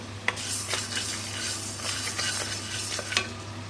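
Chana dal and other lentils dry-roasting in a pan for a bitter gourd spice powder, with a steady low sizzle and a few sharp scraping clicks from a spoon stirring against the pan, close and without voices.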